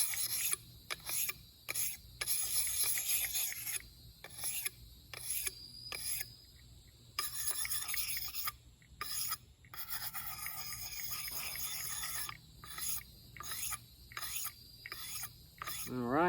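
A D2 steel knife edge is sharpened outdoors in the field, with soft, rasping strokes repeated in a steady back-and-forth rhythm, faint and close, with brief pauses between passes.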